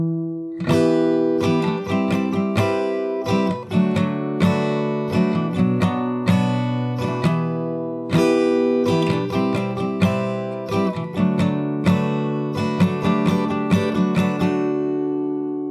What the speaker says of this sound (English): if you play the entire chord progression from the start, it sounds like this